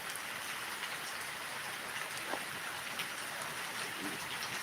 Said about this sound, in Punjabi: ਤੁਹਾਨੂੰ ਮੀਂਹ ਦਿਖਾਉਣਾ ਮੈਂ ਫੇਰ ਬੜਾ ਤੇਜ਼ ਹੋ ਗਿਆ